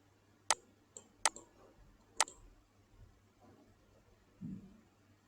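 Three sharp computer mouse clicks while working in Schneider EcoStruxure programming software, spaced about a second apart near the start, followed by quiet room noise and a faint low thump.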